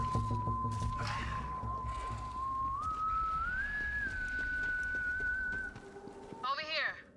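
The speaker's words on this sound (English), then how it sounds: "Someone was whistling." A single sustained whistled note from a character in the video game Borderlands 3 rises slowly in pitch and holds, clear over low background ambience, before a short warbling animal-like call closes it.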